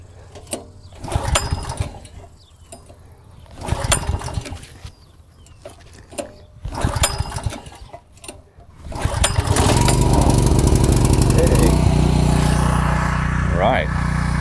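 A small engine with its choke closed is pull-started: three separate rope pulls sputter briefly, then the motor catches and runs on at a loud, steady roar, with a voice speaking nearby.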